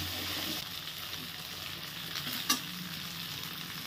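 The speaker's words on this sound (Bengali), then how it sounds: "চিকেনের মতো প্রনগুলো হালকা লাল করে ভেজে তুলবেন।" Prawns fry in a wok for mixed chowmein, giving a steady hiss and sizzle with a faint scrape or clink around the middle and no talk.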